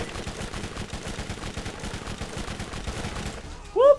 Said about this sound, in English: I've got my fire machine gun out.